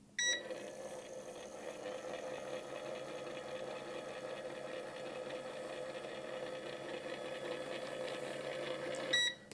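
A Hornady Auto Charge Pro powder dispenser runs with a steady, quiet whirring motor hum for about nine seconds, with brief clicks as it starts and stops, and no one speaks.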